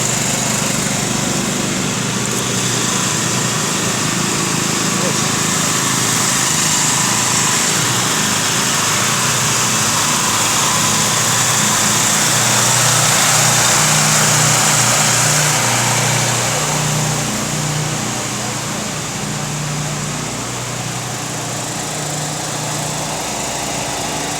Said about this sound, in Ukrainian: Ось це генератор